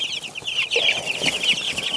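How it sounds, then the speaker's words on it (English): Baby ducks in a homestead coop, a rapid run of high peeping calls close by, continuous and bright over the full two seconds. "Now we need to get these baby ducks in here"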